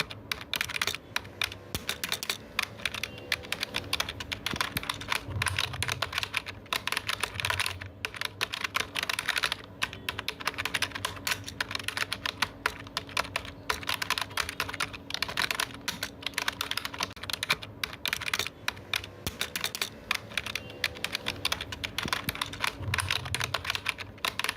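Steady typing on a computer keyboard, close and clear, with quick irregular key clicks running continuously throughout and no talking over it.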